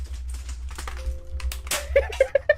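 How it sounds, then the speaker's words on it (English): Crunchy computer keyboard typing during a live gaming stream, heard as a few sharp, close clicks near the end over a low background rumble. "Well, there's just the crunch of the fucking keyboard."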